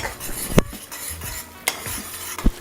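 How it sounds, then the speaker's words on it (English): A utensil stirs thick, creamy kale pasta sauce in a hot pan, scraping with a few sharp knocks against the metal over a steady low sizzle, close and fairly loud, with no talk. "just keep on mixing it and let it get nice and thick"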